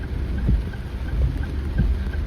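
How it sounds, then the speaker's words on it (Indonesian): Rain drums steadily on a Daihatsu Ayla 1.2 during a rainy road trip near Aik Loba, a continuous close hiss with low rumbling thumps from the moving car. "Untuk kondisi masih tetap hujan"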